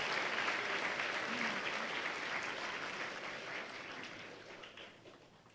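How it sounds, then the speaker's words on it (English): Steady applause from a school assembly audience at Hellstern Middle School, a dense crowd of clapping that stays fairly loud and slowly fades over a few seconds. "That's where you clap for yourself."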